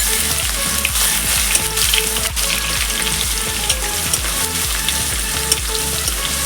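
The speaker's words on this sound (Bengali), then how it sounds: "একটু ভাজা করে নেবো রসুনটা" Loud, close sizzling of garlic paste frying in hot oil, with bubbling crackle and repeated stirring knocks at a steady pace.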